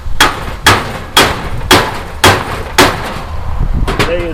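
A hammer hits a homemade chisel set against a seized universal joint, giving seven sharp metallic strikes at an even, steady pace, each loud and close, with a faint ringing tail at the end.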